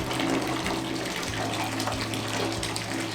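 Bathtub filling from a running tap for a bubble bath in a luxury cottage, a steady, close, continuous gush of water rushing into the tub with no voices.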